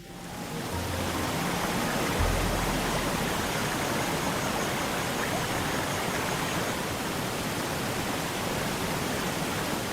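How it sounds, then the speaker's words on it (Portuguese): The waterfalls of Lohne near Rappottenstein in Austria's Waldviertel give off a steady, dense rushing roar of falling water. It starts softly and then holds at full strength throughout, with no voices. "As cachoeiras de Lohne, perto de Rapportenstein,"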